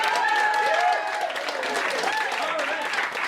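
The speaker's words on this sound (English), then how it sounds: "I want to give a nice warm round of applause to one of our castmates" Clapping from an audience at a long-form improv comedy show rolls on steadily under a voice speaking over it, with the claps fairly dense and at a moderate distance.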